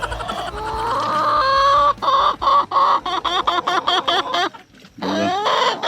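Farm chickens cluck around their nesting spots, a close series of rhythmic, repeated clucks and short calls with a brief pause before the clucking resumes, no talk.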